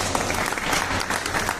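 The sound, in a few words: audience applause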